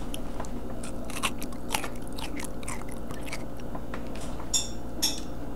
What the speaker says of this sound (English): That's a good crunch. You don't usually get a good crunch on like anything pickled